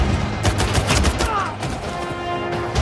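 Gunfire rattles through a World War II tank battle scene against German SS soldiers in a war film, with rapid overlapping shots and bursts crackling close over a rumbling background.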